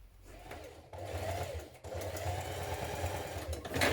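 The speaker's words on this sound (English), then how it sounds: "we're going to stitch a line of top stitching down this side just to keep it from moving around" A sewing machine top-stitches a trouser strap in short bursts, a fast, even mechanical whir that starts, pauses briefly and runs on again, close and fairly quiet.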